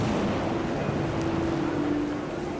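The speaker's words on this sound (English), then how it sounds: "The wind picked up" Steady, dense rain pours down with rushing wind in the video game What Remains of Edith Finch, a constant stormy roar with no pauses.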